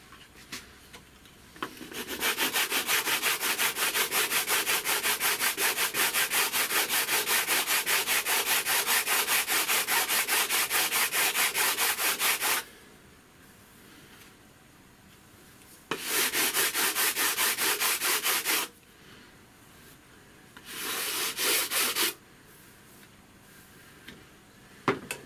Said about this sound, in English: Just going to rub that back to the line now.